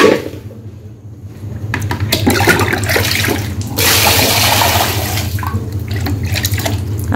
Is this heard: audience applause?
no